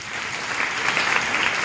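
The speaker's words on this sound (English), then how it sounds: "please clap for yourself" A roomful of women at a startup and women-entrepreneurship talk applauds steadily, a dense wash of many hands clapping that swells slightly and carries on without pause.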